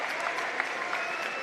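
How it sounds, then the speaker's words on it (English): Applause and cheering from a high school basketball crowd at a Shady Spring Tigers home game against South Charleston, a steady ovation as the starters head to the bench. "as a big ovation from this Shady Spring crowd"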